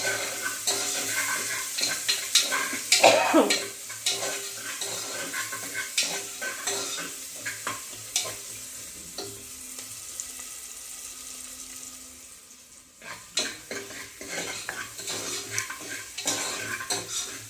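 Chopped onion sizzling in a pan with cumin and curry leaves, with repeated scraping and stirring, busiest early on; the sizzle dips briefly near the twelve-second mark, then clatters back with more stirring.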